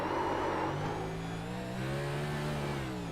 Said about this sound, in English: Watching the burnout of the 15 car.